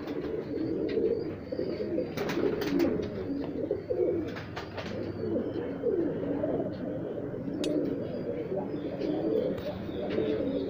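High-flyer pigeons cooing steadily at a loft in Rajsamand, Rajasthan, a continuous low throaty burble from several birds close by, with a few faint chirps over it.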